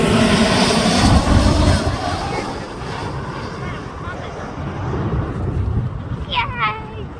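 Airplane landing right overhead at Teterboro Airport, a loud, steady engine roar mixed with wind buffeting the microphone that slowly eases off, with a few brief high chirps near the end.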